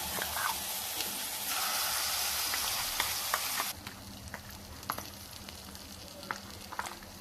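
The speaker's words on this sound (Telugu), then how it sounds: "తిరుగువాత వేగిపోయింది ఫ్రెండ్స్" Curry leaf tempering sizzling in hot oil for a tamarind pickle, a loud dense crackling fry that drops sharply to softer intermittent sizzles and pops partway through.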